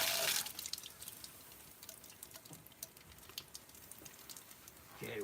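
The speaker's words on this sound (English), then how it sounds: "Okay, we're draining now." Water draining from a leaking boiler, a light, uneven trickle and patter of drips close by, fairly faint, with a louder rush at the start and again at the end.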